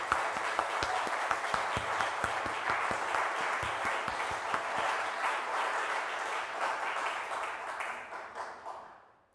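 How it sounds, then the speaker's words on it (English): Applause from a church congregation at a ministry service, a dense sustained patter of many hands that holds steady for about eight seconds, then tapers off and fades out. "I'd like to invite you to join me in a round of applause for all who made it possible."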